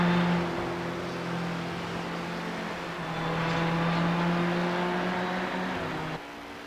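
An LMP2 prototype race car in the iRacing sim passes with a steady engine whine that swells and fades before cutting off abruptly, no talk over it.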